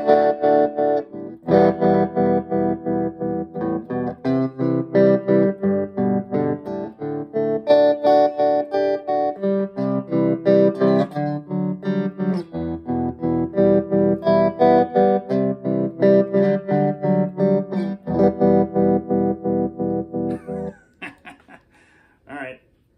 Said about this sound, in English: here we go, tremolo cranked